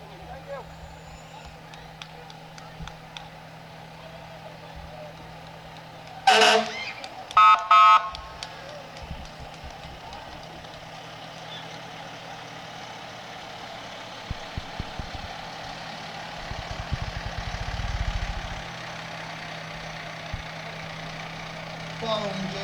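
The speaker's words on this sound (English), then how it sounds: "Ross's Point Fire Department is being represented with a 1993 International Heavy Rescue Truck, number 306, with a walk-in cab." A 1993 International heavy rescue fire truck with a walk-in cab rolls along in an outdoor parade, its engine rumbling steadily. There is a brief loud horn blast partway through, and voices can be heard in the background.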